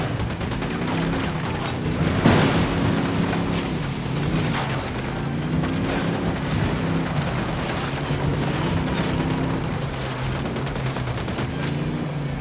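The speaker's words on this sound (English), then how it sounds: "Opening fire on these fuckers." Gunfire rattles in Ghost Recon Wildlands, with repeated sharp shots and bursts over a steady droning engine hum, fairly close and continuous throughout.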